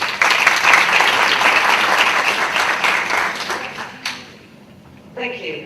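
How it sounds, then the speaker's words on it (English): An audience claps in a loud, even burst of applause that tails off after about four seconds, with a voice speaking briefly near the end. "Round of applause."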